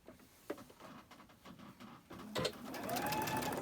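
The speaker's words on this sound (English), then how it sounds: "Now we're just chain stitching these." A sewing machine chain stitching fabric: a close, steady mechanical whir with light ticking that grows louder and denser in the second half, with no voices.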